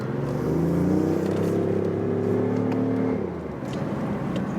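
A BMW i8 Roadster engine revs and hums near at hand with a slightly motorcycle-like tone, holding for about three seconds before the pitch drops and the sound eases.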